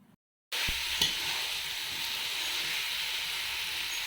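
Chicken with spice paste, cardamom and chopped tomato being stir-fried in a pot over a village clay stove, a steady sizzle and stirring that starts abruptly after a brief silence, with a clatter near the start.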